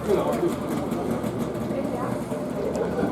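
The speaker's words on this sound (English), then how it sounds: "Oh, there's something with two-stroke. DKW Junior." A classic DKW Junior two-stroke car engine runs at a car show with a steady buzzy idle at moderate distance, mixed with crowd noise and a nearby voice.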